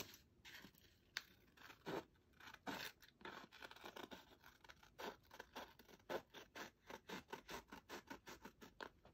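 Scissors snipping through paper for decorated music pages, a quick run of close, crisp cuts that speed into a tight rhythmic series toward the end, quiet and alone with no voices.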